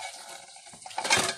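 Dried plates being handled in a home kitchen, soft clinks and ceramic scrapes that build into a brief louder clatter at the end, close and without talk.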